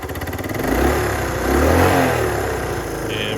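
A 1970 Honda Trail 90 motorcycle engine revs up from a low putter into a sustained drone, rising twice and then easing, loud and close.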